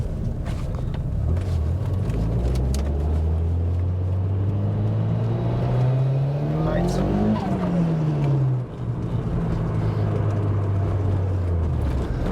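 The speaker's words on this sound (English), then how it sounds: "There's another Cosworth." A Ford Sierra Cosworth drives past as an engine note rises and falls in pitch under a steady in-car drone, heard from inside another car while people talk.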